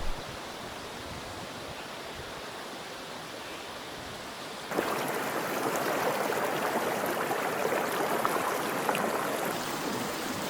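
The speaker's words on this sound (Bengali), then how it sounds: "শুধু জলের কলকল শব্দ" Steady rushing, gurgling river water flowing among many stones fills the scene, growing louder and fuller partway through, with no voices.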